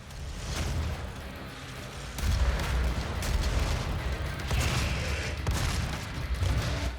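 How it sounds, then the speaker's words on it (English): Rocket launcher explosions in the video game DOOM on Ultra Nightmare, a steady churn of heavy booms and blasts layered over dense combat noise, loud and continuous with repeated sharp hits and no voices. "use the rocket launcher from the lower ground to take out all of the enemies that are spawned above"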